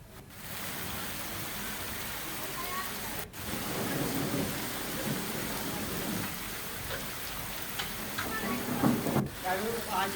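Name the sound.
heavy rain with thunder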